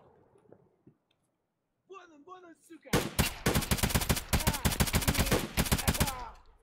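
Rapid automatic gunfire from a firefight in Escape from Tarkov, a dense run of loud shots lasting several seconds after brief in-game sounds and a short voice.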